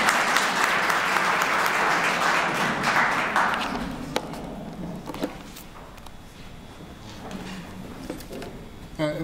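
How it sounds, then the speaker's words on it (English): Audience applause for a university Library Week launch rises at the start, then fades after a few seconds into scattered thuds, footsteps and room noise, with light talk in the quieter tail. "So can we all clap for that part?"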